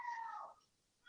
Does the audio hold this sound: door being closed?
no